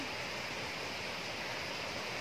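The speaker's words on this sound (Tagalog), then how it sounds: "ang tunog ng tubig? Ayan na yung falls" Mantayupan Falls rushes in a steady, broad roar of falling water, loud and continuous with no voices over it.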